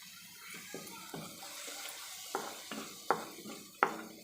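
Water sprinkled into a pan of sautéing sweet corn gravy masala, with spoon scrapes and clinks against the pan in a quick irregular series that grows sharper toward the end, close and moderately loud.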